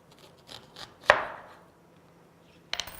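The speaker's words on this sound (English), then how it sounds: "So we are going to just cut it into some slices here." A knife slices through a sweet Vidalia onion on a cutting board: a few soft cuts, then one sharp, crisp chop with a short ringing tail, and a final quick double tap, close and quiet.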